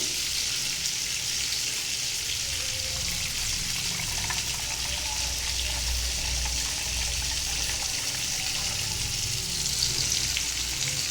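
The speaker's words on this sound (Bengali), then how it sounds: "লাউটাকে কিন্তু বারবার করে নেড়ে চেড়ে দিয়ে খুব ভালোভাবে ভাজতে হবে, যেন পোড়া না লাগে" Pieces of bottle gourd fry in a pan for a chickpea lentil dish. A steady, dense sizzling hiss carries on throughout with faint stirring underneath, close and without talk.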